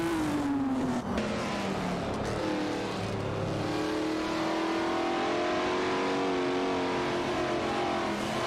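A vintage racing car, older than most grandparents, roars in a racing video game, its engine note rising and holding steady at high revs throughout, loud and close with no talking.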